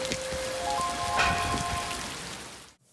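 Steady rain falls and patters on surfaces, a dense continuous wash heard up close, with faint tonal notes briefly rising midway before it cuts off abruptly at the end.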